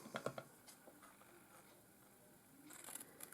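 Scissors snip through scored cardstock while trimming a Stampin' Up candy dispenser box, a few quick, close, quiet cuts at the start before a near-silent pause and a faint rustle at the end.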